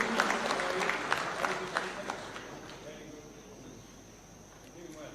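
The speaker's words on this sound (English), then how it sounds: "Let's give them a warm clap as they receive these awards" Audience applause for award recipients at a Taxpayers' Day ceremony at State House Nairobi, scattered claps over the first two seconds that fade into a quiet hall with faint background murmur.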